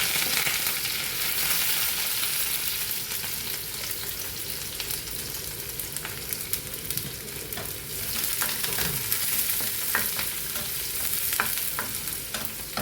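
Peppercorns, cumin, garlic and curry leaves fry in hot oil, a loud, continuous close-up sizzle with scattered crackles and pops throughout.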